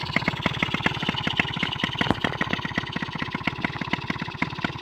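A small RC engine mounted on a bicycle idles at low throttle, a steady rapid putt-putt pulse with sharp regular firing beats, close and moderately loud without any voices.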